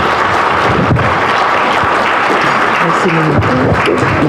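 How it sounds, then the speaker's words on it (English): Audience claps at a high-level dialogue event, a steady wash of applause with voices and speech mixed in underneath. "I think she deserves another round of applause."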